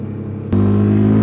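A dual sport motorcycle engine pulls hard in third gear, a loud steady drone that jumps to a higher, fuller pitch partway through and holds close and sustained.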